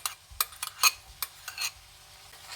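Mixed peppers tipped into onions frying in melted butter, giving a few sharp clatters and stirring scrapes over a faint, steady sizzle, close up with no voices.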